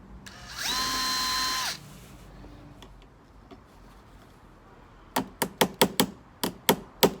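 A small drill whines briefly at a high pitch for about a second, boring a 1.5mm hole in caravan waste-pipe plastic, followed after a pause by a quick series of sharp, close clicks.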